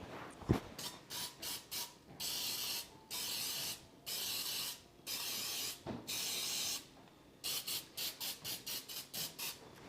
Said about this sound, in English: I'm going to spray with Pam